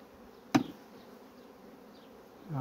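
Honey bees drone around a hive frame during colony splitting, a soft steady buzz with one sharp knock early on and a louder surge of buzzing near the end.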